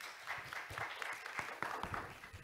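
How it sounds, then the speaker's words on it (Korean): Audience applause at a marine bio-industry forum as a presenter is introduced, soft and somewhat distant scattered clapping in a conference hall, with a brief louder thump near the end. "여러분들의 큰 박수 부탁드리겠습니다"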